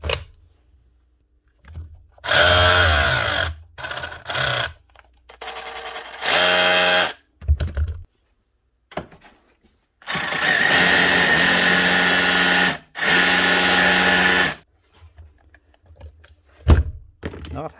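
A DeWalt 18V DCH273 SDS drill with a broken crankshaft runs in several bursts of a few seconds each with a steady motor whine and no hammering, separated by silences and small clunks.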